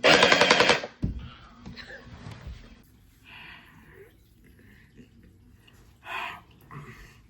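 A dual-barrel gatling-style gel blaster fires a loud, rapid burst of shots for about a second up close, followed by quieter clatter and soft voices talking.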